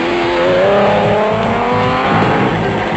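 Off-road race cars pull away at the 1997 Toyota 1000 Off Road Race with a loud, close, steady engine roar that fills the whole moment.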